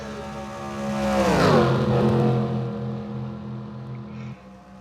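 A stock car in the NR2003 racing game, Hudson Cup series, roars past with a rising then falling engine pitch, followed by a steady engine drone that fades near the end.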